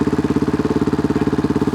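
A motorcycle engine idles steadily at close range, its low rapid regular pulsing continuous and even throughout, with no talk over it.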